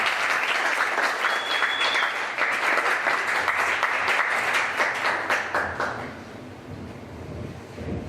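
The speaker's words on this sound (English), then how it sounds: "Can you give a round of applause?" An audience at a student speaker's talk breaks into sustained applause, thick and steady for about six seconds before thinning out and fading into quieter room noise.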